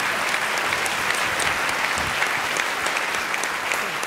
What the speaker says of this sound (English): Deserve a nice round of applause, I think.